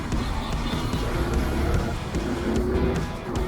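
Bajaj Pulsar NS 200 motorcycle engine running steadily on a highway ride with some gear shifting, a continuous close droning rumble with wind noise throughout.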